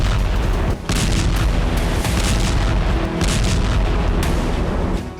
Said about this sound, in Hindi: पूर्व से लेकर दक्षिणी लेबनान में बम गिराए जा रहे हैं।